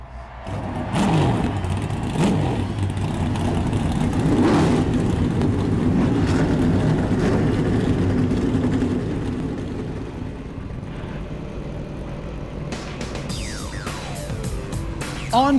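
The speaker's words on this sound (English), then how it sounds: "gentlemen, start your engines!" Many race car engines roar and rev together in the iRacing simulation of an eNASCAR Coca-Cola Series race at the virtual Auto Club Speedway, a dense, loud, sustained drone with rising and falling pitch.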